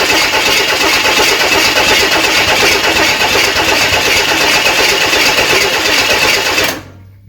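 A six-cylinder engine turning over on its first start after a rebuild, a loud, close, continuous rapid chugging and clatter that holds for several seconds before cutting off abruptly, with no talking.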